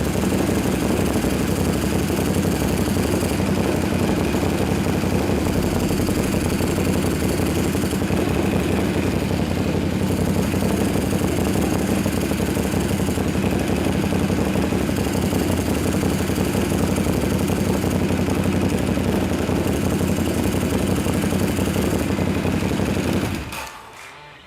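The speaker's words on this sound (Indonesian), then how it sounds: "ini kan kopling kering nih. Nah, kalau gue pencet kopling," A Ducati Diavel with a dry clutch runs loudly and steadily in a garage, a dense rattling engine clatter that holds for the whole stretch before cutting off abruptly at the end.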